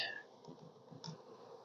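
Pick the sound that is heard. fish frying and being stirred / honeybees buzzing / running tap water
honeybees buzzing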